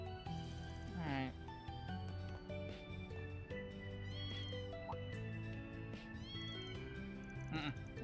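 A cat meows in the video game Trails Through Daybreak II, with several short cries rising over steady game music and some speech.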